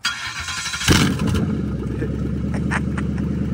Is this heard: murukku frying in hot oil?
no